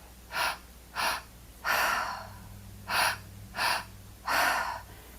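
Deep, audible breaths during guided breathwork: six sharp inhales and exhales in a steady rhythm, some longer and fuller than others, close and clear with no talking.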